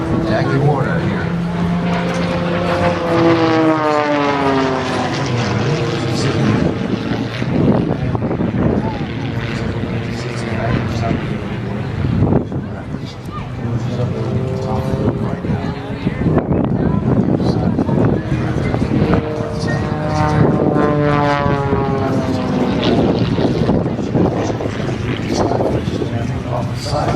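A propeller aerobatic plane performing at a 2012 air show roars overhead, its engine pitch repeatedly sweeping up and down as it maneuvers, with a commentator talking steadily over it throughout.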